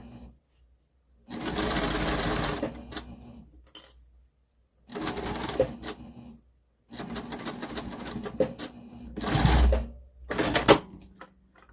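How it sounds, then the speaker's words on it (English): A sewing machine whirs in several short bursts, tacking stitches back and forth along a zipper edge, separated by pauses with small clicks and handling noises, close and fairly loud. "I'm basically just going to go back and forth and just tag those stitches down, and then I'll sew"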